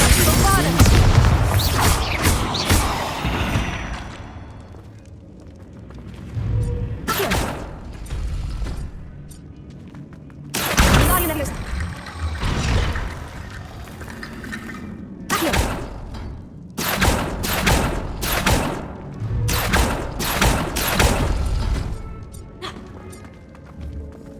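Confringo fire spells burst against enemies in a catacomb in the video game Hogwarts Legacy. Loud booms and whooshing blasts come in irregular clusters, with quieter stretches between them and a voice speaking at times.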